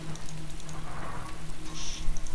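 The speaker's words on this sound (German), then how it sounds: "Aber der Regen ist auch ganz schön laut." Rain in the video game DayZ pours steadily and loudly, a dense continuous patter of drops hitting surfaces with no voices over it.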